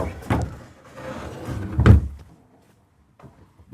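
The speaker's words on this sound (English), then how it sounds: "I want to show you this really nice barn door" A sliding barn door in the bathroom of a Dynamax Force 34KDHD Super C motorhome rolls along its track twice, with a thump at each end of travel, close and fairly loud, then quiet.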